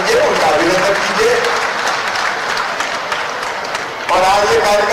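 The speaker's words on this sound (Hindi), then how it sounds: "एक बार दोनों हाथों को उठाकर ताली बजाकर उनका स्वागत कीजिए, उनका अभिनंदन कीजिए।" An audience at a public government event applauds to welcome a minister, a dense continuous wash of clapping that fills the space, with a voice speaking over it through the middle.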